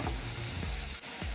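Chopped onions sizzle and fry steadily in a hot pan while being stirred, for a bitter gourd (pavakkai) gravy; a dense, continuous crackle with a brief dip as the spatula moves.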